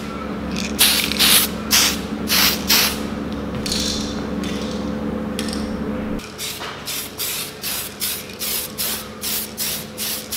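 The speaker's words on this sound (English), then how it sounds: "Just a couple of quick light coats to start, just to get a bit of a dusting on there." Spray paint can laying light dusting coats on Datsun 260Z dash parts on a table, heard as repeated short hissing bursts in a steady rhythm, each spray close and fairly loud.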